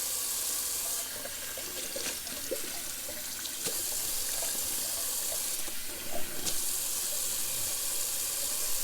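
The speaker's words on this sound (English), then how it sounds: "let's do a little cold water rinse" Tap water runs steadily into a sink for a cold water rinse during a shave, a constant close hiss of flow with small splashy shifts throughout, no talking.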